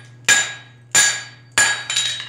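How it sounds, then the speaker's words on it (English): Three loud, ringing blacksmith hammer blows on a 5/8 inch steel bar over an anvil, forging tongs; each strike rings out and decays before the next, the last followed by a quick lighter rebound tap. "I'm hitting with the hammer half on, half off"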